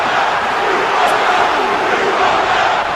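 An arena crowd in a WWE 2K wrestling video game roars loudly and continuously, a dense wash of shouting and chanting with no clear individual voices.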